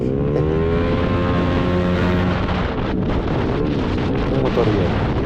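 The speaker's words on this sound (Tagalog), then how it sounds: "Uy, big bike." A big Honda CBR1000 sportbike rides past at night, its engine drone rising and falling in harmonic tones under steady, heavy wind rush on the microphone.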